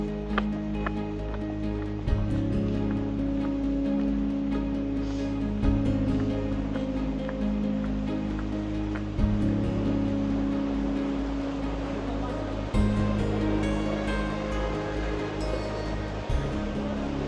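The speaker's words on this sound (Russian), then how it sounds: "Ух, море волнуется." Sea waves at Foros, Crimea, heard from a lookout: continuous rumbling surf with periodic swells of crashing water every few seconds, moderately distant, with wind noise.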